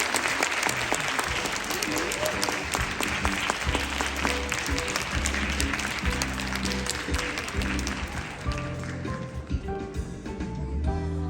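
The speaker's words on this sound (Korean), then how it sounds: "박수 보내주세요." Sustained applause from the audience at the Andong MBC children's choir annual concert, dense and even at first and thinning toward the end, with stage music tones sounding underneath.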